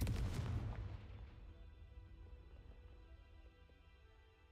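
A Confringo fire spell in a Hogwarts video game bursts as one loud booming explosion, its blast hitting hard at the start and then rolling off into a long, fading low rumble with no one speaking over it.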